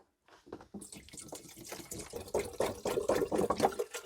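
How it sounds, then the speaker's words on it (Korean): About one liter of water pours into an electric kettle. A close, splashing stream starts after a brief silence and grows steadily louder and fuller as the kettle fills. "커피포트 있을 거예요. 여기다가 물 한 1리터 정도"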